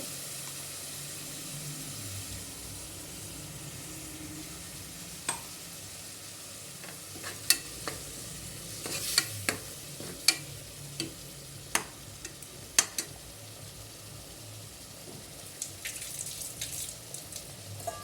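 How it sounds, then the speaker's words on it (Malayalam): A ground paste being sautéed and stirred in a pan while cooking coconut rice, with a soft continuous sizzle broken by frequent sharp clicks and taps of the spoon against the pan. "അത് ചേർത്ത് ചെറുതായിട്ടൊന്ന് വഴറ്റി കൊടുക്കുന്നുണ്ട്"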